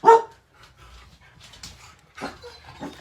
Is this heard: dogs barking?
yes